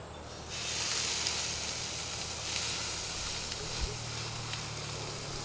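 A two-pound sirloin steak hisses and sizzles steadily on a charcoal kamado grill, a broad, even frying hiss that holds for several seconds with a faint thump partway through.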